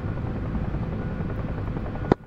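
Rotor thump of UH-1H and Mi-8 helicopters in the DCS World flight simulator, a steady loud drone throughout, broken near the end by a sharp click and a brief drop in sound.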